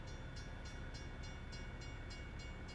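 A train in American Truck Simulator rumbles past with a steady loud roar and a regular clacking rhythm of wheels over rail joints, heard on its own without talk.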